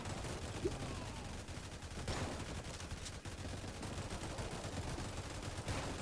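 Towers in the Roblox Tower Defense video game fire rapidly and keep up a dense, constant rattle of gunfire at moderate volume all the way through, with no one speaking.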